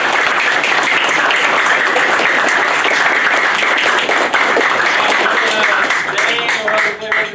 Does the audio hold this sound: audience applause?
yes